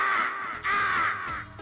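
A crow cawing as a sound effect, two long harsh caws in close succession, loud and near, alone with no talk over them.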